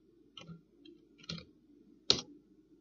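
A computer mouse gives a few sparse, crisp clicks at close range, three distinct presses spaced across a quiet background.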